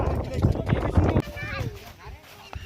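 A horse being ridden clip-clops in rapid, rhythmic hoofbeats for about a second, close and fairly loud, then fades as voices talk over the scene.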